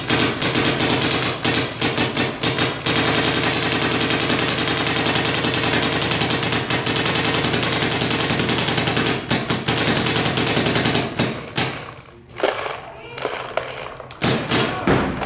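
A paintball marker fed by a CTRL loader fires a fast, loud, close burst of sharp shots for about eleven seconds, then a few scattered pops and thumps follow as firing falters, with voices in the background.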